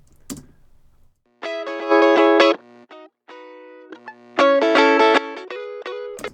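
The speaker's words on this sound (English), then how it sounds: "this is a tele part that I recorded" A Telecaster electric guitar plays short chord stabs and single notes in bursts separated by pauses, bright and clean with a slight effects sheen.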